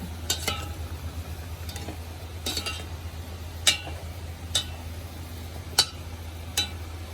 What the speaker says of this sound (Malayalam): അരച്ച് വെച്ച അരപ്പൂടെ ചേർത്ത് കൊടുക്കാം നന്നായിട്ടൊന്ന് ഇളക്കി കൊടുക്കാം